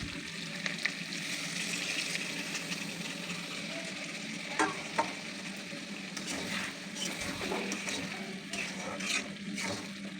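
Chicken meat simmers and sizzles in a pot for curry, a steady close bubbling and frying hiss with occasional stirring clinks.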